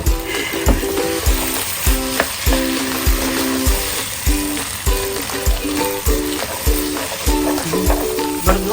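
Food sizzles steadily in a hot pan on the stove while a spoon stirs and scrapes it in a regular rhythm of clinks and scrapes. The frying is close and fairly loud, with no talk.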